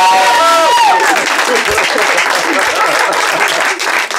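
A comedy show audience breaks into loud, dense applause from the start, a steady wash of clapping with a few voices and cheers mixed in throughout.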